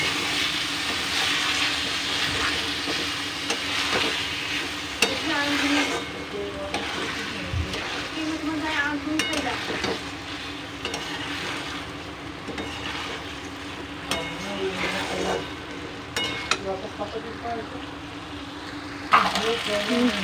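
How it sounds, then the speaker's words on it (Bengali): Rice stir-fried with spice paste in a pan, with continuous frying hiss and frequent clattering stirs throughout, and a few sharper knocks near the end. "চালটা দিয়ে মশলাটার সাথে একটু ভালো করে কষিয়ে নেব"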